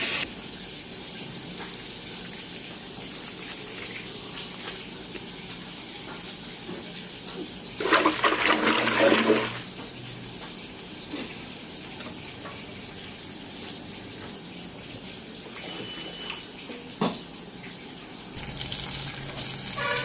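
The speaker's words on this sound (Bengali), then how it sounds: "আমি কাপড় চোপড়গুলো ভালো করে পরিষ্কার করে নেড়ে দেবো" Water runs steadily throughout, with a brief louder gush and splashing partway through, as clothes are washed in a tub or basin.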